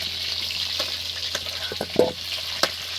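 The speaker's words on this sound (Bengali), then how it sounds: "ভেজে নিয়েছি, এবার এগুলো বেশি ভাজবো না।" Potatoes frying in hot oil for vegetarian khichuri, a steady sizzle close by with scattered stirring clicks and taps and no voices.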